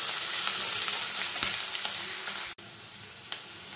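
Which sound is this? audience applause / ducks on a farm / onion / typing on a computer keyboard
onion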